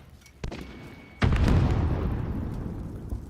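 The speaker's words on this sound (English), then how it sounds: "Throw a grenade!" A grenade explodes in Warzone: a sharp click, then a sudden loud, deep boom that rumbles on and slowly decays, with a few smaller pops in the background.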